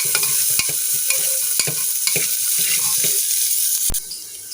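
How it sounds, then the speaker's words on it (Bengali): Chopped onions frying in a pan for ghugni, a steady close hiss and crackle with frequent clicking scrapes of a spatula stirring, fading slightly at the end, with no talk. "এবার আমি খুব ভালোভাবে পেঁয়াজটাকে ভেজে নেব"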